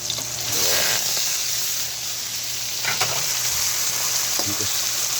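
Squid frying with garlic, onion and tomato in a pan for adobong pusit, a steady close sizzle and hiss throughout with faint stirring clatter and a few brief knocks.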